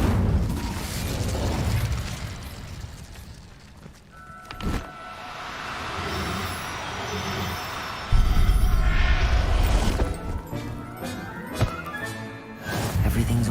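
A fire spell going off in a wizarding video game, a burst of whooshing magical fire with mechanical clunks and a thump, busy game effects carrying on loudly over thirteen seconds.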